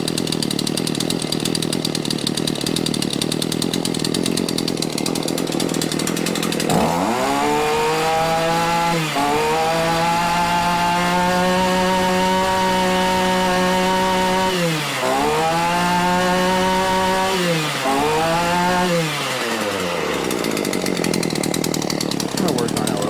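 A Shindaiwa edger engine running at too low an idle, cutting in with a harmonic drone that sags and dips a few times before recovering, loud against steady background noise.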